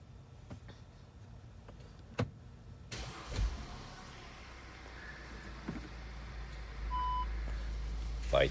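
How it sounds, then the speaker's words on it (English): An Audi Q5 starts up in a quiet garage: soft clicks and a brief silence give way to the engine catching, then a low, steady idle hum with a few faint electronic chimes. "let me start the car"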